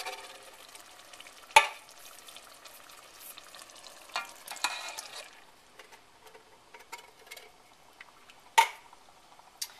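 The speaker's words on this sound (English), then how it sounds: "I'm going to stir this real good" Marinara sauce with crushed tomatoes, basil and bay leaves being stirred in a pot, with soft intermittent scraping and wet stirring sounds and a couple of sharp utensil knocks against the pot.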